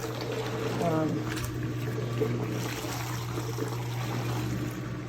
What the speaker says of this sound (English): You can hear the pump going, and you can see the water going down.